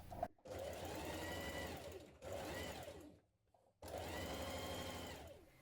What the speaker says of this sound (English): we're going to stitch it to the lining a couple of millimetres away from this seam just here